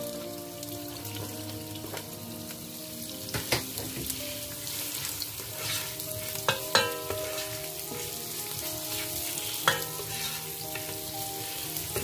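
Leek frying and being stirred in a pan while cooking Cameroonian poulet DG, with a steady close sizzle and intermittent scraping and clinking of the utensil against the pan, plus a brief running-water sound.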